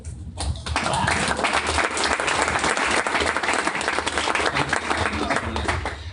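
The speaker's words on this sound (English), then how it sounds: "So let's give him a warm clap." An audience claps warmly to welcome a presenter at an education business talk. The applause is sustained and full, close and steady, with a faint murmur of voices underneath.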